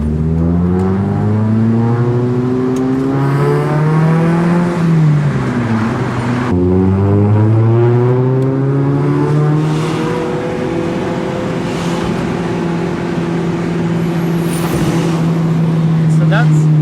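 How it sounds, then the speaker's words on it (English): Mitsubishi Mirage Cyborg ZR engine revving high and climbing steadily toward about 8,000 RPM, a loud, continuous rising whine with a brief dip around a gear change, heard close up from inside the car under occasional talk. "It feels like it just revs forever."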